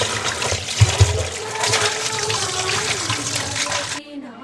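Water pours and splashes steadily while potatoes are washed for a potato curry, with a couple of dull knocks near the start, then cuts off abruptly at the end.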